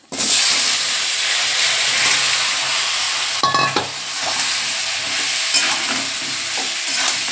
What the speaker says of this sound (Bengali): এই আলু ফুলকপিটা ভেজে নিই